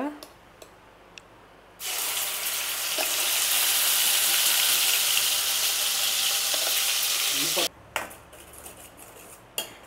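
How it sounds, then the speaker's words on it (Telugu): Masala spice paste frying in a pan for a Telugu-style vanjaram (seer fish) curry, a loud steady sizzle that starts suddenly after a quiet stretch, holds for about six seconds, then cuts off, leaving faint kitchen clatter. "మనం మసాలా వేసుకున్నాం కదా ఈ మసాలా అంతా అయితే బాగా వేగాలి"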